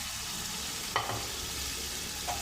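Onion-garlic chutney and byadgi chili powder masala frying in a pan, a steady low sizzle with a couple of brief stirring scrapes, no voices.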